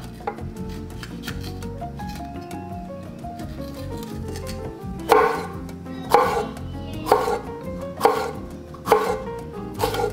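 A knife chops on a cutting board while preparing a tuna salad, with a run of sharp, evenly spaced cuts in the latter half, close and crisp over soft background music.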